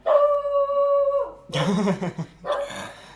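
A female dog barks and howls nearby, one drawn-out tonal howl followed by two bursts of rough barking, loud and alone.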